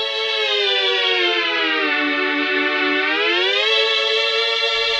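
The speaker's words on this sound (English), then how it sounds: "It's changing the pitch in near real time." Sustained Mellotron chord on pitch setting 2, a dense stack of harmonics that slowly sags in pitch and then rises again, loud and steady throughout with no voices.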